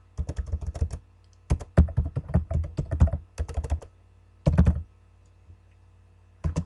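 Bursts of rapid typing on a computer keyboard, clicking keys in short clusters separated by brief pauses, close and clear.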